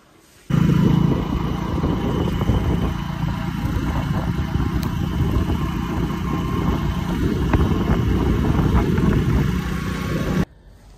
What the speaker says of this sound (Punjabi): ਬਾਈਕ 'ਤੇ ਜਾਵਾਂਗੇ ਹੁਣ